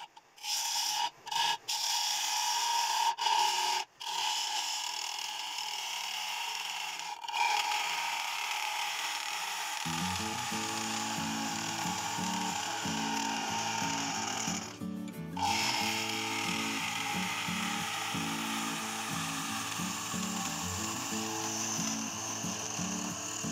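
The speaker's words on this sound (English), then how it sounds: "Scraping out the last 2 marks here, and then I will get ready for the inlay." A woodturning lathe runs steadily while a scraper works a wooden piece being prepared for a copper wire inlay, giving a continuous close rasping hum with a few sharp clicks near the start.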